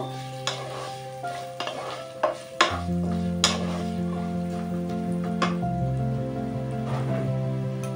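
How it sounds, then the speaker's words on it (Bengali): Potato pieces fry in a pan with a little turmeric, giving a low sizzle under a steady tonal hum, punctuated by several sharp spatula scrapes and clacks as they are stirred. "আলু ভাজার মধ্যে অল্প পরিমাণে একটু হলুদ দিয়ে ফ্রাই করে নেব।"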